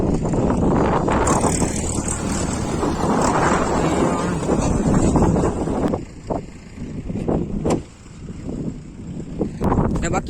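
Wind gusts loudly across an open sesame field, a steady buffeting rush that dips briefly twice before building again.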